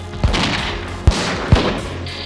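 Three gunshots ring out in an exclusive village in Makati before dawn, sharp isolated cracks with uneven gaps between them, heard over a steady low background.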